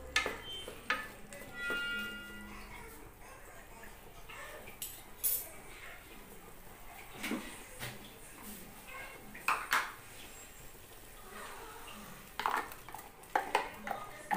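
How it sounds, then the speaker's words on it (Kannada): Freshly ground masala paste goes into a frying pan: faint, scattered spoon clinks and scrapes against metal, with a soft background hiss and occasional voice nearby. "ಮಸಾಲೆ ರುಬ್ಬಿಟ್ಕೊಂಡಿದ್ನಲ್ಲ ಅದನ್ನ ಹಾಕ್ತಾ ಇದ್ದೀನಿ. ಒಂದು ಸ್ವಲ್ಪ ಫ್ರೈ ಆಗಲಿ"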